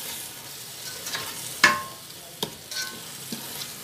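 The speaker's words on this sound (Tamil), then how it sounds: "நல்லா அது மசாலாவை நல்லா வதக்கி விடணும்." Masala for a rice cooker chicken biryani being stir-fried, with a soft steady sizzle and a few sharp scrape or clink accents from the spoon, close and moderately quiet, with no voices.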